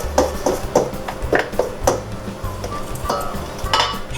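A fork works butter into biscuit dough in a bowl for Southern biscuits, giving repeated scraping clicks and taps against the bowl at an uneven, quick rhythm, close and moderately loud with no talking.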